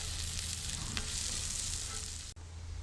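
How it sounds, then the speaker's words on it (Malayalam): Ginger, garlic, green chilli and cumin seeds fry in hot oil with a constant loud sizzle and a faint crackle, then a brief dip near the end. No one speaks. "ഇഞ്ചിയും വെളുത്തുള്ളിയും പച്ചമുളകും ഒന്ന് ചെറുതായിട്ട് മൂത്ത് വരട്ടെ"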